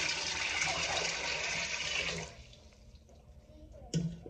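Purified water, about a liter, pours into a pot in a home kitchen, a loud steady splashing rush that stops after about two seconds, followed by faint clinks and a brief knock near the end.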